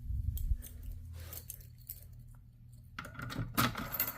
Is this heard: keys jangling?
yes